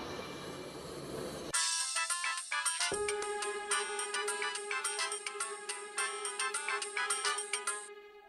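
A telephone rings during a call with a bright electronic melodic ringtone. It cuts in sharply after a short muffled stretch and then repeats in quick rhythmic tonal bursts, close and clear, until it stops near the end.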